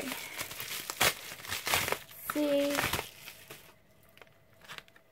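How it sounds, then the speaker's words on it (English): Crinkly plastic wrapping on Lime Crime Candy Pockets cosmetics is torn and crumpled open in close, busy bursts of rustling and crackling, with a brief spoken word partway through. "I'll unwrap everything and then I'll cut them open."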